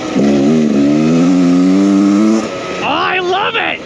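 A Beta Xtrainer 300 two-stroke enduro motorcycle on street tires revs loud and close, holding a buzzing pitch before dropping and climbing again in quick rising bursts.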